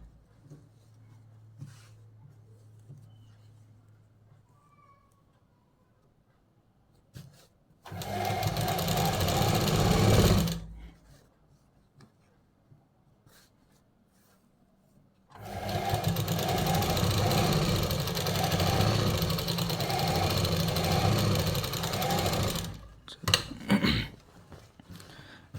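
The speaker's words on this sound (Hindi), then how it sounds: "मशीन के नीचे ले आना है। सिलाई स्टार्ट कर देना है।" A sewing machine stitches a kurta in two loud, rapid runs, a short burst and then a longer one of about seven seconds, with quiet handling of cloth between them.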